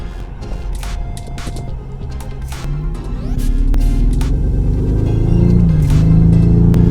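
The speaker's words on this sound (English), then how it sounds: "Yeah, I'm really driving a Bentley." Special edition Bentley engine while driving, a low continuous rumble from inside the cabin that swells louder midway as the car accelerates, with a rising drone that holds steady to the end.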